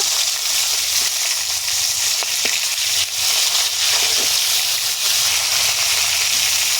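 Loud, continuous sizzling of bhetki fish heads frying in oil up close, a dense hiss with occasional faint clinks and no talking.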